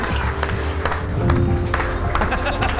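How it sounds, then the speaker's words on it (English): Wedding guests break into a loud round of applause at a reception, a dense, steady wash of clapping with a few sharper bursts and crowd noise, sustained throughout. "please give Devo a loud round of applause."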